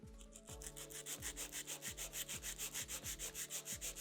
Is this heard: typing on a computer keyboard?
no